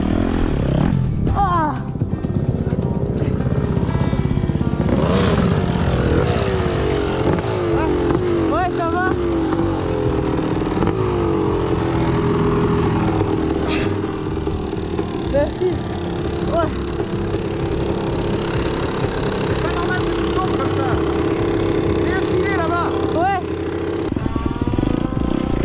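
Motocross dirt bikes ride a track under harsh conditions, engines droning and revving continuously with rising and falling pitch throughout, with people talking over the engine noise.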